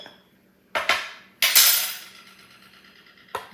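Utensils strike and scrape a dish while hash brown casserole ingredients are mixed, giving a few sharp metallic clinks and clatters separated by quiet pauses.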